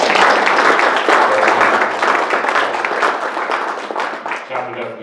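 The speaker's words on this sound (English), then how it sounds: "Give him a round of applause." Applause from an indoor audience at a professional chapter meeting welcoming a new chapter president, a dense steady clatter of many hands that tapers slightly toward the end.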